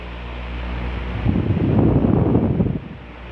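A Hatari HE-C18M1(S) 18-inch electric stand fan from 2014, set to high speed, blows a rushing stream of air that swells into a loud, gusty roar for a second or so, then settles back to a softer hum.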